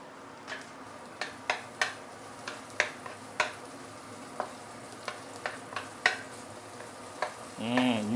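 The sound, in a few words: stir frying minced garlic and crushed salted black bean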